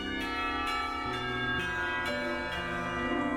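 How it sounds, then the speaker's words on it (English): A school bell rings in the Katawa Shoujo visual novel, sounding as a sustained, tonal chime with repeated bright strikes over a steady low musical bed, fairly clear and continuous across a few seconds with no talking. "The school bell ringing out startles us both."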